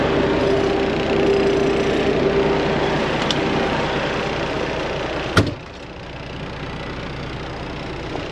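Skid steer engine running steadily while riding in the cab during an exhaust cleaning job, a loud continuous idle-like drone with one sharp knock near the end, no talking.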